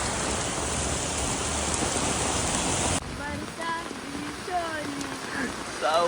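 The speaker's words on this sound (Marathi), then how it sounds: "इथं पाऊस बघा थोडा जोरात आला आहे" Heavy monsoon rain pours down in a loud, dense roar for several seconds, then continues a little lower beneath a voice talking.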